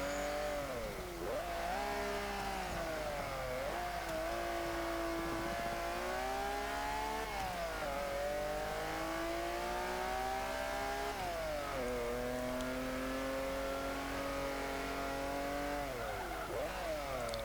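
A 1940 Ford De Luxe Coupe with an extremely powerful engine and its original long-geared gearbox, racing in Forza 5: a steady, loud engine drone rising through long revving pulls with brief dips at gear changes.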